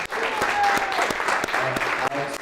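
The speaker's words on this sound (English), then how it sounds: "Let's give them a round of applause." Audience applause for student leaders at an open forum on the 2017 immigration executive order, a steady full-room clapping that runs the whole moment with a few sharper claps and faint voices mixed in.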